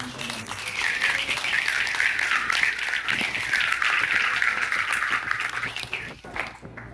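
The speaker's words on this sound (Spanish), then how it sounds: "Den un aplauso al Señor" A church congregation applauds during a sermon, dense clapping sustained for several seconds with a faint tonal hum underneath, then fading near the end.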